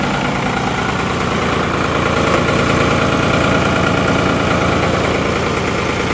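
A Ford backhoe engine idles steadily for the whole stretch, a loud, close, continuous rumble with a faint knocking vibration and no talking.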